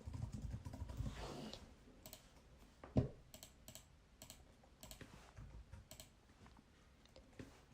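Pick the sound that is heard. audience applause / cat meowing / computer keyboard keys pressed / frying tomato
computer keyboard keys pressed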